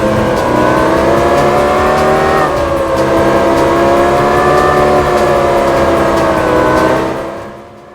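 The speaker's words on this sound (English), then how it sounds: "This engine sound came from that 2002 Z06 C5." Engine of a 2002 Corvette Z06 C5 in a racing video game, loud and close, droning at high revs, dipping briefly and climbing again, then fading out at the end.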